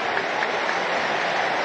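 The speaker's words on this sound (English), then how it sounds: "the applause that you can see is for that man putting his shirt on for the first time in pre-season" Steady wash of crowd applause at a pre-season friendly between Liverpool and Torino, greeting a player as he pulls on the shirt for the first time, even and sustained without a break.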